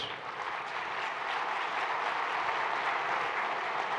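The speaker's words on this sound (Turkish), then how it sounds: "Tüm Türkiye'nin hissiyatı olarak alıyorum bu alkışları." Sustained applause from an audience at a radio award ceremony in Turkey, steady and dense clapping at moderate distance with no voices over it.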